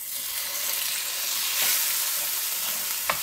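Shrimp fry in a hot pan over low fire, a steady, loud, dense sizzle with a brief sharp crackle near the end and no talking.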